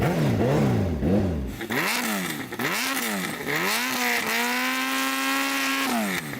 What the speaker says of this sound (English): Rich, can you rev up your bike?